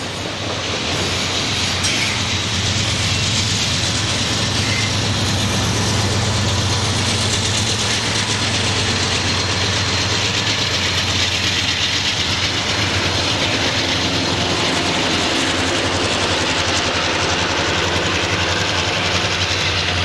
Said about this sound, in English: Train 36A is on the move again with 5 locomotives to get the train over the hill.